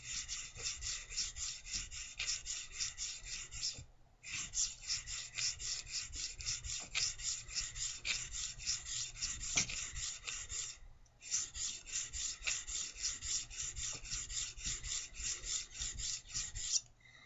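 A steel blade scrapes back and forth on an India oil stone, a steady raspy filing sound in long continuous strokes with two brief pauses, close and alone.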